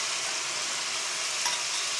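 Ground spice paste for an Assamese jackfruit curry frying in hot oil, a steady dense sizzle that holds evenly throughout with one small clatter near the middle.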